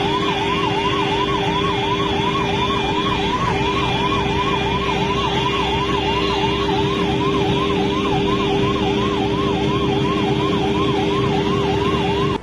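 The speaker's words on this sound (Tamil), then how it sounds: "பின்னாடி வர ஆம்புலன்ஸ்லயும் சைரன் நல்லா சவுண்டா இருக்கு, ஈவன் அவங்க ஹாரனையும் சேர்த்து அமுக்கிட்டே வராங்க." An ambulance siren wails loud and close in a steady, fast-cycling rhythm over a constant horn tone and road traffic noise on a road in Kerala, continuing throughout.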